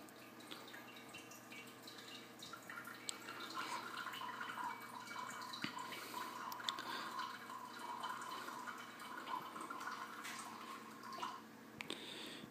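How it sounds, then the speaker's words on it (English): A drink-mixing machine pouring liquid from a valve, a steady faint trickle and drip with a low mechanical hum underneath, continuous for several seconds, with no one speaking. "And we go. So there we go. The LEDs are kind of following it, and we're pouring."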